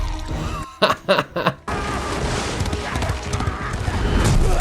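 A horse in a fantasy TV series scene gives a run of clopping hoofbeats and loud whinnies. These give way to a dense, rumbling action soundtrack.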